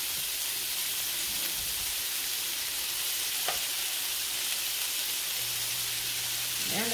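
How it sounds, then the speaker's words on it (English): Garlic pepper shrimp, large, deveined and rinsed, fry steadily in a pan with a continuous close sizzle and occasional crackles, no voices. "they're going in the pan as we speak"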